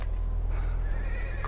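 Horse whinnying with hooves clip-clopping in a film scene, a brief neigh over a low steady rumble, moderately close and without speech.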